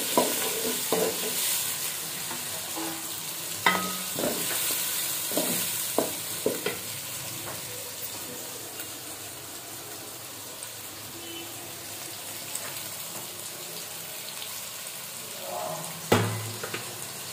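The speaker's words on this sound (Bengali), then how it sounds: "পেঁয়াজটা ভালো করে লাল লাল করে ভেজে নেব" Chopped onions fry until browned for crisp fried onions, a continuous close sizzle broken by repeated stirring knocks and scrapes, louder at the start and again near the end.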